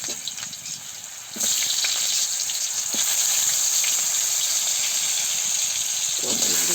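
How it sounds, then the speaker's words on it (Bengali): Potatoes frying in hot oil tempered with cumin seeds for a fish curry with pointed gourd and drumstick, the sizzle jumping up loud as they go into the pan, then hissing on steadily and close. "এখন আলুগুলোকে ভেজে নেব।"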